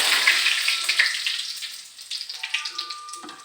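Curry leaves hit hot oil in a pan with a loud burst of sizzling and crackling that quickly fades to a softer, spitting fry.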